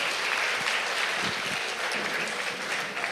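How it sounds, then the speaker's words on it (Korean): Big round of applause for elementary school children at a church Sunday evening service reporting on summer school events, a dense steady wash of clapping from the congregation throughout. "우리 다시 한 번 더 우리 친구들에게 아주 큰 박수 부탁드립니다"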